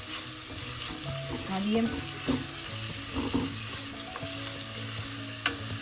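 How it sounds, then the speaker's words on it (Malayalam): Ingredients sauté with salt in a pan for chicken biryani, a steady loud sizzle with occasional stirring knocks and one brief spoken word. "നമുക്കിതിലേക്ക് 1/4 ടീസ്പൂൺ ഉപ്പും കൂടെ ചേർത്തൊന്ന് വഴറ്റാം."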